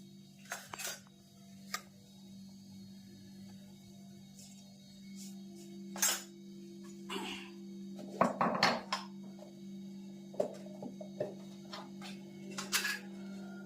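Mustard seeds crackle in hot oil for a Kathiyawadi-style kantola sabzi, giving sparse sharp pops and clicks at irregular intervals over a steady low stove hum.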